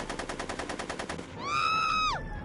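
Rapid automatic gunfire from the Back to the Future video game: a fast, even stream of shots for over a second, followed by a loud, rising-then-falling tonal whine that cuts off sharply.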